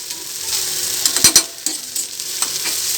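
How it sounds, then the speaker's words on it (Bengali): Crushed ginger and garlic fry in a hot pan with a constant close sizzle, while a utensil stirs and scrapes, making a few sharper clacks and knocks against the pan. No one speaks. "এটা আমি একটু ওয়েট করবো যতক্ষণ না এটা আদা রসুনটা একটু ভাজা ভাজা হয়"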